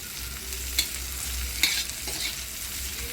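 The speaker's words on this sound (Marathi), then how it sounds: "तेल भाजायला टाकले मस्त भाजली" Chillies frying in hot oil for a quick spicy pickle, giving a steady close sizzle with a couple of sharp stirring clinks against the pan, no voices.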